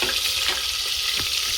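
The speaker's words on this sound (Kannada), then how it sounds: "ಈರುಳ್ಳಿ ಹಾಕ್ತಾಯಿದ್ದೀನಿ." Onions fry in a pan with a bright, steady hiss that stays loud and close throughout, with a faint stir or two and no voices.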